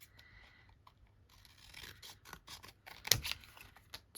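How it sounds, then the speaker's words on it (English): Scissors snip through paper cards to cut them in half for a grungy journal craft, giving a handful of crisp, close cuts with a sharper snap near the end, and no talking. "So what I'm going to do is cut some of these cards in half."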